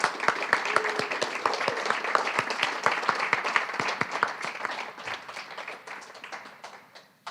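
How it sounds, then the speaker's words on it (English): An audience at a state poetry recitation final gives a round of applause for student performers, dense sustained clapping that gradually thins and fades out. "let's give our students another round of applause"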